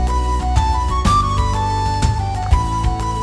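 Yamaha Genos 2 keyboard playing an accompaniment style, a loud full arrangement of sustained chords and melody over steady drum hits, continuous and close without talk.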